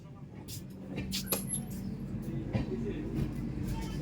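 A moving train from Kolkata to Ayodhya gives a steady low rumble and rattle inside the M1 coach, with occasional knocks and clatters and faint background voices.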